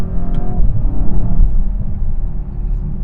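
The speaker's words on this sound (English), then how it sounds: "this has a 9-speed MCT transmission, which is not going to shift as aggressively as it would in other units like in the AMG GT" A Mercedes-AMG S63 E Performance with a 9-speed MCT transmission accelerates from inside the cabin, its loud, steady engine rumble carrying a quick upshift early on before the drone settles and continues.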